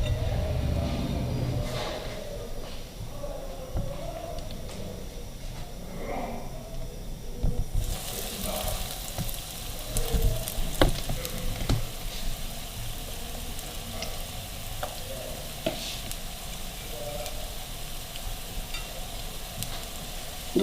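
A chicken patty sizzles in a little oil in a pan, a steady soft frying hiss that grows busier midway, with faint clinks and handling sounds.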